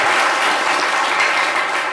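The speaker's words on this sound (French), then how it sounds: "on va applaudir bien fort pour Yannick, s'il vous plaît." Studio audience at a live French-language talk show bursts into loud, sustained applause, a dense continuous wash of clapping with no voices over it.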